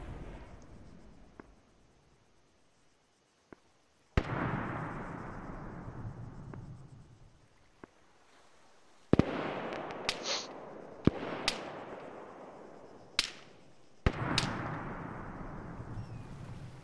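Video game gunfire sounds out in sharp, loud cracks and bursts, isolated at first then clustering in rapid shots with decaying rumbles between them.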